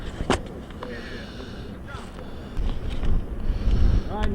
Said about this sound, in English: Wind has got to be at least 30, maybe 40-mile gusts here, 30-mile-an-hour winds.